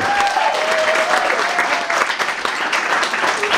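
A comedy club crowd applauds for the troops, a loud, sustained burst of dense clapping with a voice briefly rising over it early on.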